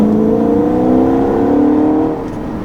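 A 2013 Audi RS5's V8 engine hums smoothly and loudly up close while driving, with steady layered engine tones holding for a couple of seconds before easing slightly toward the end.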